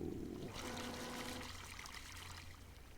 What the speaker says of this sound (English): So definitely got to fix the water sound.